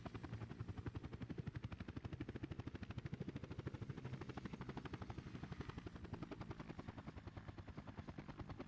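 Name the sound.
helicopter in video game Workers & Resources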